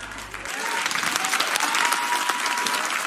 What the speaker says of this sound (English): don't clap, not too fast.